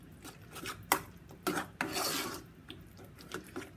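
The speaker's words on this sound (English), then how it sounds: "I'm gonna go ahead and stir that in" Cumin being stirred into canned beans in a pot with chiles, giving a close scraping, rasping run of utensil strokes against the metal with brief bright clinks, loudest in the middle, with no talking.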